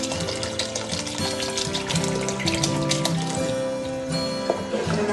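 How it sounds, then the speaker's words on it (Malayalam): Vinegar pours into a batch of beef pickle as a short, close liquid stream and splash, heard over steady background music. "പിന്നെ നമുക്ക് സിർക്ക് ഒഴിക്കാം."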